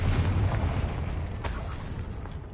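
A Confringo fire spell blast in the video game Hogwarts Legacy, one loud booming burst at the start that rumbles and decays across the whole clip, heavy low end, no speech.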